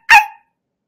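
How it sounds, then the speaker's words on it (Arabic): A single loud, close dog bark, short and sharp, heard alone in an otherwise silent moment. "كلب."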